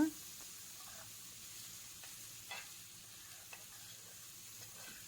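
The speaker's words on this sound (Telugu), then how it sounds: "చికెన్ బాగా ఫ్రై అవుతుంది సిమ్లో ఉడికించి ఫ్రై చేసుకోవాలన్నమాట" Chicken frying in a pan over low heat until golden brown, giving a faint, steady sizzle with a few soft clicks and stirring scrapes scattered through it.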